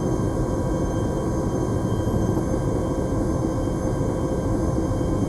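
Aircraft engine in a military video game, a steady, loud, droning hum with a low rumble that holds constant throughout.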